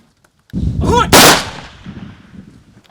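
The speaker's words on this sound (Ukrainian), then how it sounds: "пролунали постріли у повітря" A single sharp gunshot fired into the air at a soldier's funeral farewell in Odesa cracks out loudly outdoors, its echo rolling away and fading over the next couple of seconds.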